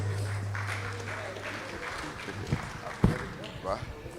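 Scattered applause from an audience at a national electoral reforms summit, moderate and fairly distant, with a few sharper bumps and a low hum, and a voice talking partway through.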